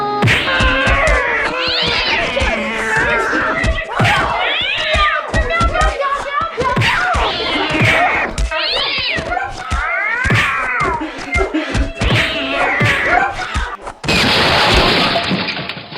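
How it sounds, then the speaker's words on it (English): Cats fighting outside yowl and caterwaul loudly in repeated rising, wavering cries, with sharp knocks between them, ending in a burst of crashing, shattering noise. "that cat fight's going on outside"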